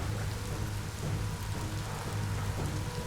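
Steady rain pours in the video game Biomutant, a dense even hiss with a low rumbling undertone throughout, loud and continuous with no voices.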